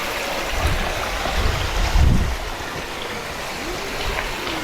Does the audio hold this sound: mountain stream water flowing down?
yes